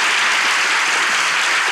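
Studio audience at a Turkish comedy relationship-quiz show in Ankara breaking into loud, dense applause, a continuous roar of clapping with no voices over it.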